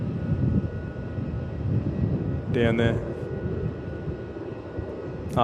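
An airplane at Melbourne Airport gives a broad, steady engine roar from a distance, with a brief voice speaking over it partway through.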